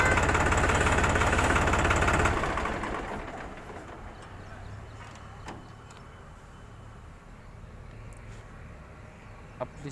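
A New Holland 3630 tractor diesel engine runs loud and throbbing for two seconds, then settles into a quieter, steady low idle, with a few faint clicks and bird calls around it.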